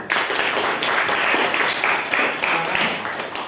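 A classroom group claps for a team of students, giving a dense, steady burst of applause that stays loud for a few seconds and then tapers slightly.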